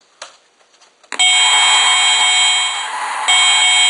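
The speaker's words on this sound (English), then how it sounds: "let's see how Nintendo sounds or emulates" A Retro Duo clone console plays NES game audio: a few soft clicks, then a loud, steady, piercing square-wave tone holds for several seconds and jumps slightly louder near the end.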